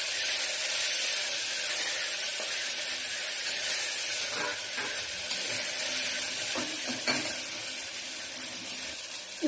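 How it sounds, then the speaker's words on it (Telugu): Onions, ginger garlic paste and tomatoes fry in a pan with a steady sizzle and hiss, broken by occasional scraping knocks of a stirring spoon, and no talking. "ఇప్పుడు ఇందులోనే టమాటాలు వేసాను. ఒకసారి అన్నీ కలుపుకుందాం."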